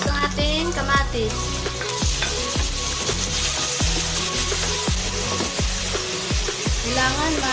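Onion and tomato sizzling in a hot pan while chicken pininyahang manok cooks, a steady loud frying hiss with repeated clacks of a utensil stirring and scraping through the mix.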